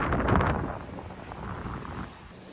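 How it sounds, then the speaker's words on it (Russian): Low, rumbling gusts of strong wind buffet the microphone by a bay in Izmir, Turkey, a broad roaring wash that swells and fades over a couple of seconds with no voices. "ветер ого-го"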